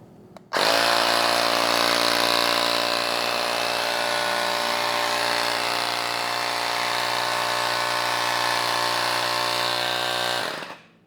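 An INGCO CACLI12011 12V cordless tire inflator starts with a click and runs close by for about ten seconds as a loud, steady motor buzz, then winds down and stops.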